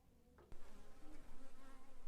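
Bees at a bee farm during drought and cold weather, a close continuous buzzing drone that starts after a soft bump and keeps fluctuating.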